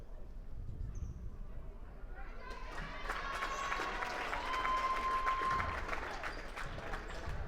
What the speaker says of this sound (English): Glenski will take a seat, gets a nice round of applause